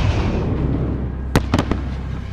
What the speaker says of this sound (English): Sergeant, fire a flare from the launcher.